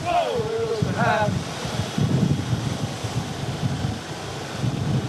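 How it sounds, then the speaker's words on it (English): Strong hurricane wind gusts roar continuously and loudly across the microphone as the storm makes landfall near Tampa, surging in waves, with a brief vocal sound near the start. "now it's really gusting"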